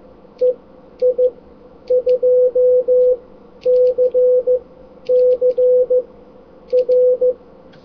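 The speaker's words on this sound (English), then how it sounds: "And the repeater kindly gave us the call sign EI2CCR at a little bit faster pace." Amateur radio repeater sending the call sign EI2CCR in Morse code, a clean steady tone keyed in short and long beeps at a brisk pace, loud and alone in the foreground.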